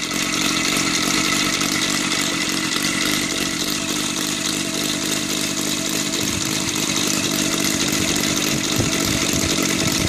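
An EVO 7-77 model aircraft engine converted to gasoline with CDI ignition runs near 8500 RPM, a loud, steady high-pitched buzzing drone that holds constant throughout without pause.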